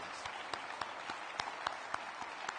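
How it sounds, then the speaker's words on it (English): An awards banquet audience applauds the nominees for a dealer of the year honor, steady dense clapping heard alone and at a moderate distance, with a few sharper claps standing out. "please join me in applauding them for their achievements and contributions"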